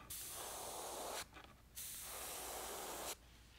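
Two steady bursts of a spray gun laying a light coat of paint on a crappie fishing lure, close, even hissing separated by a short pause, with no voices.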